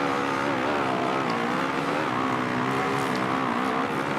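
Motocross bike engines race in the MXGP2 video game, a loud continuous high-revving buzz with steady harmonic whine and slight pitch shifts, no voices.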